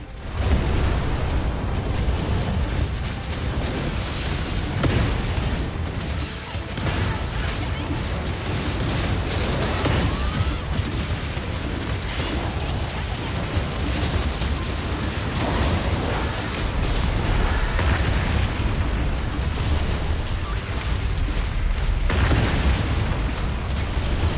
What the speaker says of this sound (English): These meteors that are dropping are ultimates from mages.